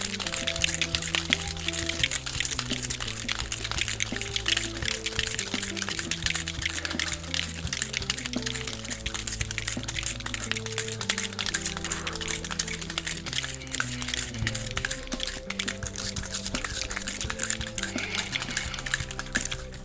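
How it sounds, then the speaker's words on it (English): Cocktail shaker dry-shaken without ice while making a White Lady, a steady continuous rattle and slosh of liquid lasting about twenty seconds, close and even, with background music underneath. "we're gonna seal this up, dry shake, no ice, shaking for 20 seconds."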